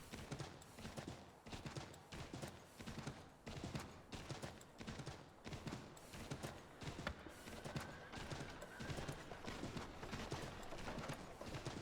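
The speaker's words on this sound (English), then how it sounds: "Look at that. Got a horse now." Horse hooves clip-clopping in Assassin's Creed 3 Remastered, a quick steady rhythm of hoofbeats throughout, fairly faint and close, with no voices.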